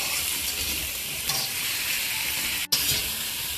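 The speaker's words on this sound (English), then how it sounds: "On high fire, you're going to quickly saute these prawns." Prawns with shells sautéing over high heat for Thai fried rice, a loud, steady broadband sizzle with a brief break near the end, no voices.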